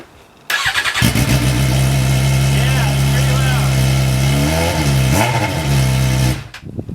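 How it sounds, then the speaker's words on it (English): A 2011 Suzuki GSX-R600 motorcycle engine with no muffler starts up and runs with a raw, unmuffled roar for several seconds, rising briefly in pitch mid-way before cutting off. "here's just the sound without any muffler"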